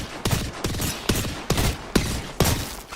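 Gunfire in a shooter video game, about six sharp shots spaced roughly half a second apart, each a loud crack with a short trailing rumble, heard without any talking.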